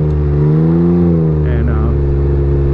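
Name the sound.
Can-Am Ryker with Silber Turbo tunable exhaust riding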